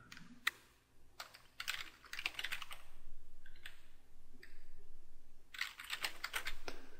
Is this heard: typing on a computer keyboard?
yes